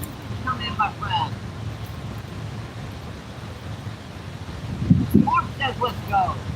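Gusty wind roars and buffets the microphone on a cool, windy day while fishing outdoors in St. Louis, a steady low rumble that surges louder near the end, with someone talking over it.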